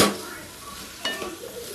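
A spoon scrapes and clinks against a pan as onions are stirred and sautéed for a prawn curry, with a soft sizzle underneath and a sharper scrape near the end.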